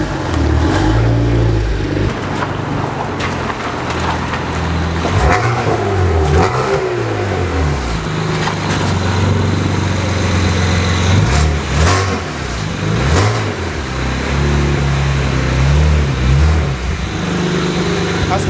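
A BMW 135i 1M replica fitted with large turbos revs hard while driving, heard from inside the cabin as a loud, rising and falling engine roar with people talking throughout.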